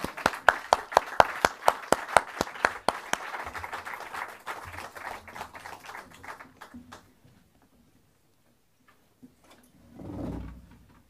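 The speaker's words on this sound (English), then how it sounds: "Et on peut applaudir tout le monde, je pense," Audience applause at a French photography conference, a burst of loud clapping that thins out and fades to scattered claps within about six seconds, then near silence with a brief low rumble.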